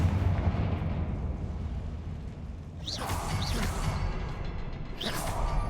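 A Confringo fire spell blasts in Hogwarts Legacy, two bursts of whooshing, crackling fire over a steady low rumble of ambience, the second arriving about two seconds after the first.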